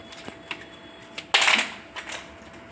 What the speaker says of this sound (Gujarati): બરફના ત્રણ ચાર પીસ નાખીશું